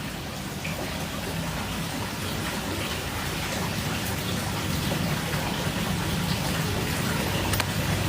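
Light drizzle falling outdoors, a steady, even hiss of fine rain with occasional faint drop ticks, continuous and fairly loud, with no voices.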